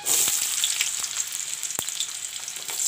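Chopped onions hit hot oil already holding chopped garlic, giving a loud, steady, close sizzle with a few sharp crackles and pops throughout.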